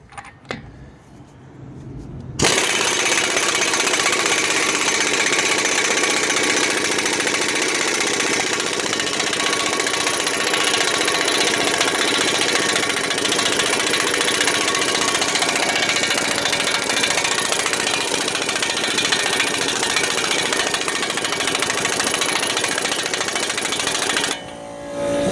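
Impact tool spinning off an axle nut with a 32 mm socket on a 2013-2016 Ford Escape 2.0L AWD, a loud, close, continuous rattling whir lasting over twenty seconds after a brief quiet start, with no talk.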